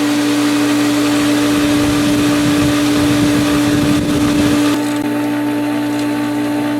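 A home swimming pool pump starting up in the morning, a loud steady mechanical drone with a strong hum and rough rattling grind that smooths out and settles into a quieter, even whir partway through; no talking.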